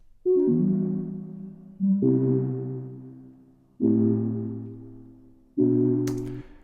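Four sustained keyboard chords played one after another at a slow, even pace, each struck cleanly and left to ring and fade before the next.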